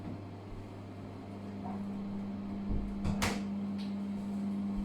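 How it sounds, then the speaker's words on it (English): A door at home is pushed shut with a single muffled thump and short rattle, close by against a steady indoor hum. "I'm just going to close the door here."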